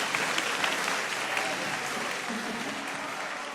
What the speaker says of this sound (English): round of applause for both of these athletes